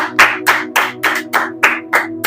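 A church congregation clapping loudly together during a sermon service, seven sharp, evenly spaced claps at about three per second over a steady sustained musical tone.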